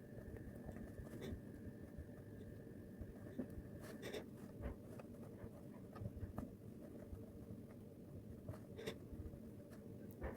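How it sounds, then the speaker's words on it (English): Chalk or marker writing on a board during a conference lecture, faint scratchy strokes and light taps in an irregular rhythm over quiet room noise, with no voice. "Now I can write what I was trying to write earlier."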